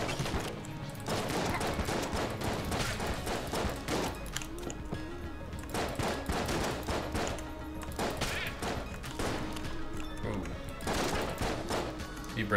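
The starting gun firing in Enter the Gungeon, a steady stream of quick, punchy shots in regular bursts mixed with impact thuds and crashes, continuing throughout with no talk.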